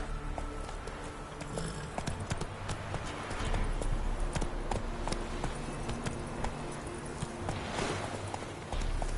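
Steady clip-clop of hooves from Roach, the horse in The Witcher 3 video game, walking at an even pace under a low game ambience, close and fairly loud.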